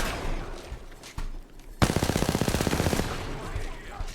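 Rapid automatic gunfire from Apex Legends erupts after a short pause: a loud, evenly spaced burst of about a dozen shots lasting over a second, over faint background game noise.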